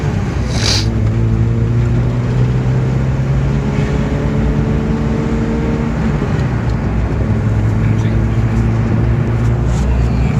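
Mazda Miata fitted with a new exhaust and lacking power steering drones steadily while being driven, its engine note holding a continuous hum with a slight pitch change partway through as it shifts toward second gear. A voice speaks briefly over it.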